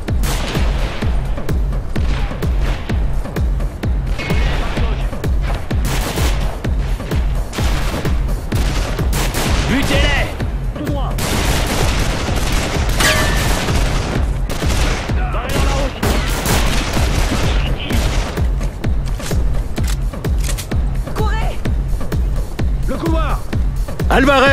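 A gunfight in the video game Call of Juarez The Cartel erupts as dense, continuous gunfire, with loud rapid shots and bursts packed tightly for the whole stretch, and voices shouting over the firing.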